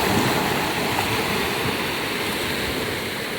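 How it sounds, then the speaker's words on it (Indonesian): Ocean waves break on an Indonesian beach in a continuous, loud broadband wash of surf that stays steady for a few seconds with no voices. "Tuh ombaknya teman-teman"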